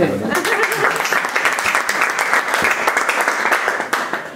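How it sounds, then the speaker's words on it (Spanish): A tour group at a museum exhibition on medieval medicine gives a round of applause, a steady burst of many hands clapping close by with a few voices mixed in. "Un aplauso para un padre"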